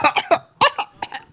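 Several sharp, loud coughs come in quick bursts, close to the microphone, with short pauses between groups and no talk.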